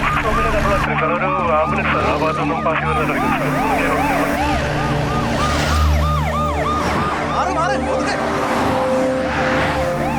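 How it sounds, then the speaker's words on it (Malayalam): An ambulance siren wails in a rising and falling pattern over a busy road scene with engine noise, loud and near throughout, with voices talking over it. "ചേട്ടാ, ആംബുലൻസ് ഉണ്ട്, നമുക്ക് അതിന്റെ ബാക്കിൽ വിടാം"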